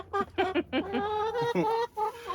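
Hens in a greenhouse coop cluck and call loudly and close by, a run of short squawks turning into longer drawn-out tonal calls, with no talking.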